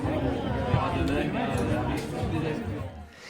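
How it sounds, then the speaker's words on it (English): Diners chattering in a cafe or restaurant, many overlapping voices forming a dense babble with occasional clinks, fairly close and steady before thinning slightly at the end. "that's the sound of people in a cafe or restaurant"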